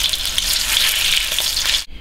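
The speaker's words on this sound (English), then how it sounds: "so you want to fry these, make sure the wok's really hot" Steady loud sizzling of meatballs frying in a hot wok of oil, a dense hiss that cuts off abruptly near the end.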